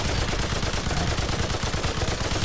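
Dense, continuous gunfire from the video game Remnant 2, with loud, rapid overlapping shots and booms in an unbroken barrage and no break in the noise.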